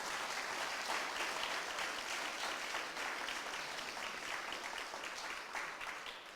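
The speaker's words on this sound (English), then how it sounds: "Let's give them all a round of applause." Dense, steady applause from an audience at a University of Florida event, honoring university administrators. It fills the whole stretch at an even level with no voices on top.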